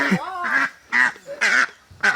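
Several raspy duck quacks come in quick bursts, close by, one after another with short pauses between.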